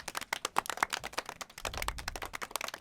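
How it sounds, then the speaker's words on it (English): A small group gives brief, uneven applause for a podcast host in a home basement, with sparse, sharp claps in irregular bursts, close and moderately loud. "So why don't you go ahead and give me applause?"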